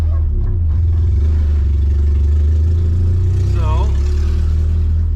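A Honda Integra engine runs close by as the car pulls back into a garage after a test drive, running without its exhaust, a loud steady drone with a brief rev under a man's speech.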